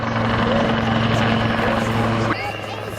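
Lynx helicopter hovering at an air show, a steady loud rotor drone with a strong low whine throughout that drops in level near the end, with faint crowd noise beneath.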